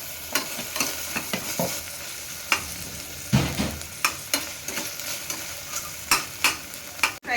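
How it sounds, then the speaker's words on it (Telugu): Cashews frying together with drumsticks in a pan for drumstick biryani, with steady sizzling broken by repeated scraping stir strokes at an uneven rhythm, close and fairly loud, no talk. "ఇలా కాజు వేసుకున్నాం కదా, కాజు ఫ్రై అయిపోయింది."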